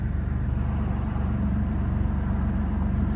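A BMW F80 M3 fitted with an aftermarket exhaust runs steadily at idle, giving a deep, continuous low rumble that stays even and close throughout.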